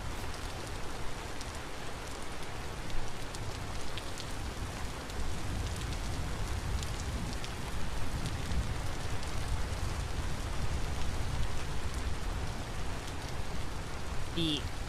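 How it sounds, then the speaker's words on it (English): Steady rain falls in the video game Vintage Story, a dense, even hiss that holds at a constant level throughout with no breaks or separate drops standing out. "All this rain."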